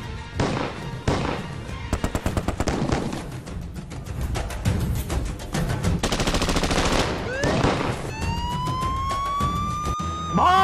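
A police siren wails up and down near the end, following a burst of rapid gunfire and loud commotion.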